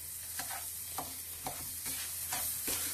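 A mixture roasting in butter in a pan, steady sizzle broken by regular stirring scrapes about every half second, close and alone.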